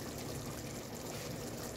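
Water pours and trickles steadily as it drains off freshly washed lentils, a close, continuous liquid stream with no talking.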